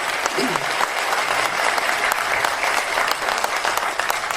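Applause from an audience at a Tamil film event honoring actor Sivaji, a dense, steady wash of many hands clapping throughout, loud and sustained, with a brief voice near the start.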